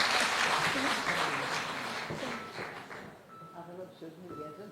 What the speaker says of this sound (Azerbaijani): Ona görə də bir alqış gəlsin bizim həkimimizə.